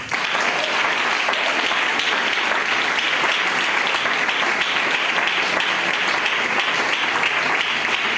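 A church congregation gathered for the Sinaï 2021 event applauds, dense sustained clapping filling the room evenly from start to finish, loud and close, with no talk over it.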